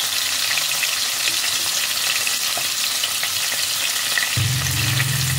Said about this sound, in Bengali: এবার আমি চিংড়ি মাছগুলোকে উল্টে অপর পিঠটাও সেমভাবে ভেজে নেব।